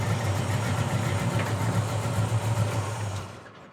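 A 1957 Chevy Tri-5 V8 idles steadily and close by, a deep even rumble with a low throb that holds throughout, then fades away toward the end as the engine shuts off.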